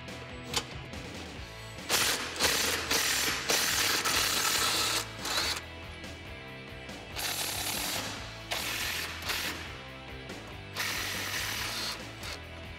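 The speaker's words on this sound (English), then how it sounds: "So now I'm going to get in there and start removing the nuts." Ratchet working on the front bumper nuts of a Jeep Wrangler JK, a series of loud, close clicking and whirring bursts separated by short pauses, with no talking.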